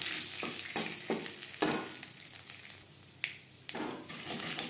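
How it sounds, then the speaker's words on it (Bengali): Panch phoron and bay leaves sizzle in hot oil in a kadai while Bengali potol chingri is cooked, with steady frying hiss broken by several sharp spatula scrapes and clinks against the pan. "ফোড়নে দিয়ে দিলাম পাঁচফোড়ন তেজপাতা"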